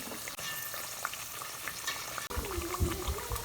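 Sweet potato chunks coated in sugar fry in hot oil for kamote que, giving a close, steady sizzle with crackles and a few stirring knocks partway through.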